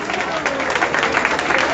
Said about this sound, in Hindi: उनके लिए तालियां बजाइए